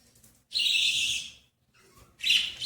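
Thin, high chirping from newly hatched bird chicks in a nest box comes in two short bursts separated by a brief pause, close and fairly faint, with no voices.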